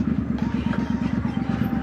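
Loud vehicle exhaust with a steady, rough low rumble and rapid pulsing throb, close and continuous throughout.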